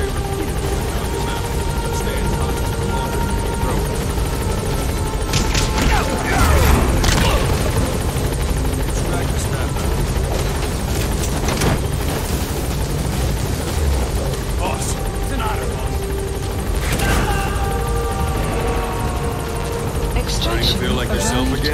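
A helicopter arrives at Mother Base in Metal Gear Solid V, its rotor thudding loud and close in a constant, throbbing drone, with bursts of wind and engine whine and voices talking over it.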